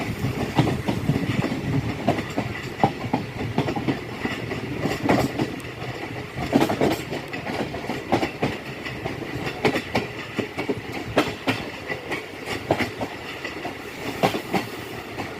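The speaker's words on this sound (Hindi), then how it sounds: "बहुत ही खूबसूरत ट्रैक साउंड आ रहा है इस टाइम" Train wheels clatter over the rails in a steady clickety-clack rhythm, heard from inside a moving carriage with a constant rumbling background, on a Rawalpindi to Mandra train near Chaklala railway station, Pakistan.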